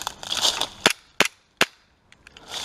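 Toy cap-gun pistols crack in a backyard two-on-two match: a busy cluster of snapping shots, then three sharp, loud isolated pops spaced apart, followed by a few fainter distant clicks and more firing at the end.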